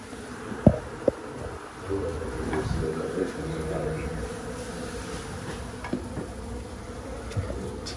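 A swarm of bees buzzes in a steady, dense drone close by, with a few sharp knocks and faint rustling underneath.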